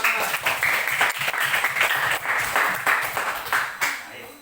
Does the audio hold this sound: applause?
yes